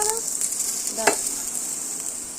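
Onion being stirred and fried in a pan for a potato curry, a steady hissing sizzle with occasional spatula taps and one sharper clack near the middle.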